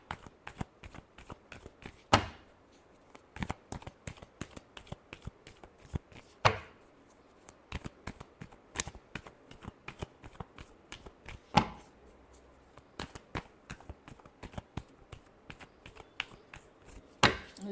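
Tarot cards being shuffled by hand at close range, with rapid soft riffling and regular sharp slaps and taps as the deck is cut and squared, alone without talk.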